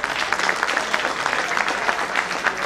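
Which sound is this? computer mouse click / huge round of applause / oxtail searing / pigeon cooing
huge round of applause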